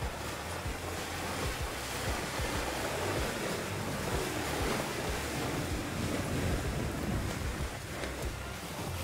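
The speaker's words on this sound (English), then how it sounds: "All we hear is just the sound of spreading dirt and water." An electric CF-moto X8 ATV conversion, with no engine noise, drives hard through dirt and water. It makes a steady, loud rushing wash of splashing spray and wind buffeting the microphone.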